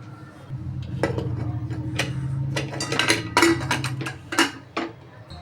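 Eggs clink and knock against a metal pressure cooker and each other while being set in for boiling for egg curry, a series of sharp bright taps and rattles over a low steady hum.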